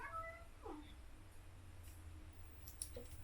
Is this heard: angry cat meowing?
yes